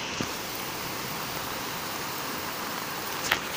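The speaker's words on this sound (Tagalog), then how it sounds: "as of today is raining" Morning rain falling in Taiwan, a steady, even hiss of drops that fills the whole stretch, with one faint short knock near the end and no talking.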